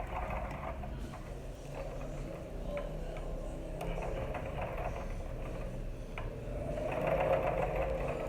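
A sewing machine stitches velcro onto pearl-trimmed baby shoes with a small stitch and backstitching, making a close, steady mechanical whirr with a rapid ticking needle rhythm that runs continuously and swells slightly near the end.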